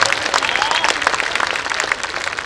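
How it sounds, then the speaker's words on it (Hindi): Steady, dense applause from the audience at a Hindi comedy poetry gathering (hasya kavi sammelan), many hands clapping together in a continuous, fairly loud wash with no speech on top. "ताली बजाओ, हाँ दोनों हाथ उठा के।"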